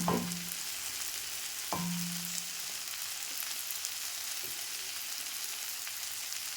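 Broad beans (avarakkai) stir-frying in a pan give a steady sizzle, with two brief louder bursts near the start as the food is stirred.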